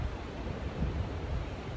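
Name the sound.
sound of water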